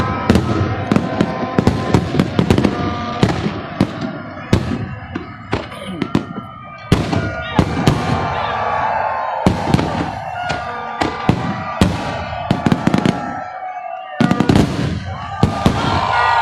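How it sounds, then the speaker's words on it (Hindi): Fireworks burst repeatedly in quick irregular succession at Minar-e-Pakistan for Pakistan's 75th Independence Day, loud sharp cracks and booms overlapping, with faint crowd sounds between blasts. "आतिशबाजी आतिशबाजी का सिलसिला जारी है"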